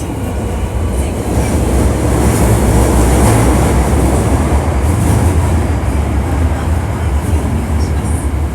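Hankyu 1300 series train, a car with an abnormal noise, running between Tengachaya and Kita-Senri: a loud, steady rumble of wheels and motors from inside the car, with continuous rolling noise throughout.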